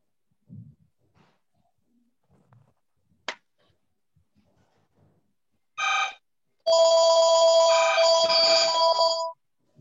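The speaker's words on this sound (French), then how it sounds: "il y a quelqu'un qui a un téléphone qui sonne" A telephone ring tone sounds out in a quiet room, first a short burst and then a long, loud electronic ringing that plays for several seconds, after a few faint knocks and rustles.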